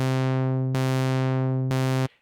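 Synthmaster 3 synth tone holding a steady harmonic-rich note, its filter cutoff stepped by a tempo-style Step LFO, with sharp jumps at regular intervals that make the brightness change abruptly before the sound cuts off.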